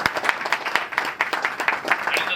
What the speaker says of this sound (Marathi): जोरदार टाळ्या झाल्या